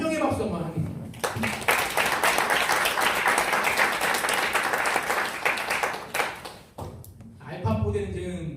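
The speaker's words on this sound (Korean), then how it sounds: "우리 두 분 위해서 환영의 박수 한번 하겠습니다" Welcoming applause from a Sunday worship congregation at a military church greeting two soldiers, dense clapping swelling for several seconds then fading, with a voice before and after.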